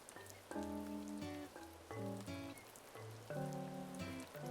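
Soft rain patters in the video game Animal Crossing New Horizons. It is a quiet, even hiss beneath gentle, chiming in-game music, with no voices.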